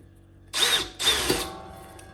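Pneumatic rivet gun setting a rivet through a wall panel inside a 2023 Sprinter van conversion, two sharp close bursts about half a second apart, then quiet.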